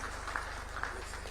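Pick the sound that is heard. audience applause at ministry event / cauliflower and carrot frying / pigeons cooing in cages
audience applause at ministry event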